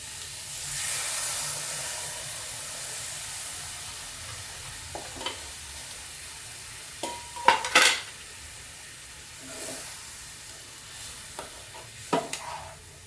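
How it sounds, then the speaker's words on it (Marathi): Thick coconut milk going into a rawas fish curry as a spoon stirs it in the pot: soft scraping and swirling with a faint sizzle, broken by a few sharp metallic clinks near the middle and end, no voices. "आता ह्यात मी नारळाचं दूध टाकत आहे."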